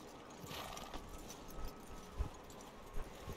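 Horse hooves clip-clop in Red Dead Redemption 2, a soft, steady walking rhythm of muffled hoofbeats with a few slightly firmer steps, fairly quiet and without talk.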